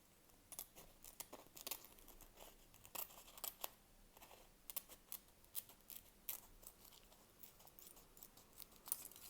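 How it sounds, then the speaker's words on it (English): Scissors snip yellow vinyl sheet for a Ducati Monster dashboard, a faint, close run of small irregular clicks and crisp cuts, alone without talk. "I start cutting inside the red line"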